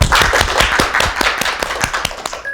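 Close, loud clapping from an audience at a forum welcoming a speaker, with individual claps clearly distinct in a quick, uneven rhythm before trailing off.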